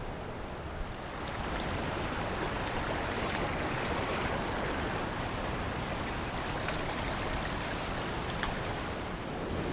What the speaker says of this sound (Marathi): तर बघा नदीला पाणी खूप आहे